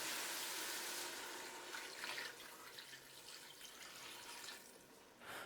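Water pours in a steady stream into a cooking pot with meat for several seconds, the flow hissing and splashing before briefly easing near the end.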